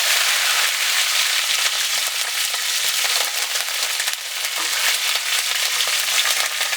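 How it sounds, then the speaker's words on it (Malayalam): Mustard seeds and curry leaves splutter in hot oil for Kerala-style jackfruit erissery, a loud, dense, continuous crackle that holds steady from start to finish, with no talking. "ഇതിലേക്ക് കുറച്ച് കടുകിട്ട് പൊട്ടിക്കാം. കുറച്ച് കറിവേപ്പില ചേർത്ത് കൊടുക്കാം."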